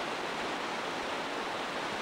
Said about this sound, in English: water's running all the way through